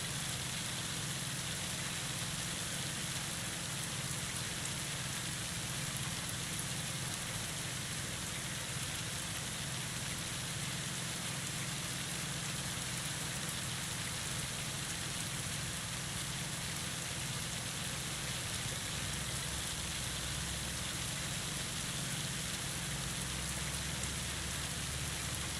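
Steady rain in a farming video game, a constant dense hiss of drops falling on surfaces, even and unbroken throughout with no voices.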